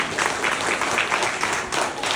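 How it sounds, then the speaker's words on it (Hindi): Seminar audience in a hall breaks into steady, enthusiastic applause, a dense, even patter of many hands clapping together for a couple of seconds. "एक बार इनके लिए जोरदार तालियां होनी चाहिए"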